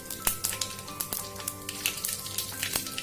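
Mustard seeds, cumin, cinnamon and cloves crackle and sizzle in hot oil, with sharp scattered pops over a steady frying hiss, close up and fairly loud, with no talking.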